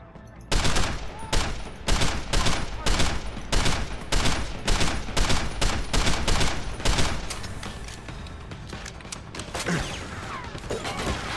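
Rapid, loud volleys of gunfire in the stealth-action video game Deus Ex: Human Revolution, dense repeated bursts for most of the stretch before tapering into scattered shots and mechanical clatter.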